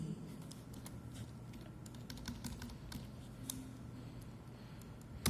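A string is typed on a computer keyboard during a programming lesson on string functions, heard as steady, close, fairly quiet key clicks in an even stream over a low hum, with no talking.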